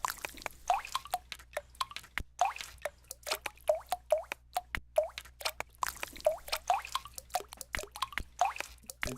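Synthetic water-drip plops repeat in a quick, grooving rhythm inside an Ableton Live track, each drop a short pitched bloop, steady and fairly close with no voices.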